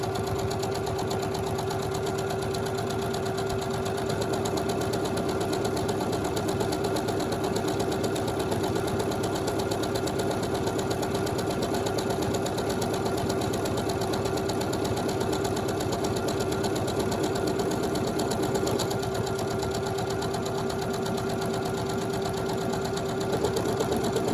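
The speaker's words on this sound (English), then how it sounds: "I'm just going to do another sample buttonhole to show you what a difference that makes to the appearance of the buttonhole" A sewing machine stitches an automatic one-step buttonhole, running at a steady, continuous hum with an even mechanical drone held for the full stretch, close and alone with no talk.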